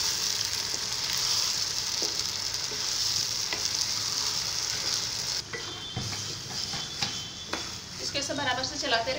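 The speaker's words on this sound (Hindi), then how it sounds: "इसको बराबर से चलाती रहूंगी, इसको सूखा होने तक के भूनूंगी, थोड़ा इसका कलर चेंज हो जाए तब तक।" Dried dates halwa, made from chhuhare, is roasted and stirred in a pan. It gives a steady close sizzle of frying with scraping stir strokes and a few utensil clinks throughout, and a voice is briefly heard near the end.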